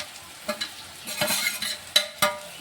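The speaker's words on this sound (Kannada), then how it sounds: "ಮತ್ತೆ ಚೆನ್ನಾಗಿ ಇದನ್ನು ತಿರುವಿ ತೊಗೋತೀನಿ ನೋಡಿರಿ" Cabbage and green chilli samosa filling frying in a pan is stirred with a spatula, giving several quick scraping strokes and knocks over a soft sizzle, close and clear, with no talk.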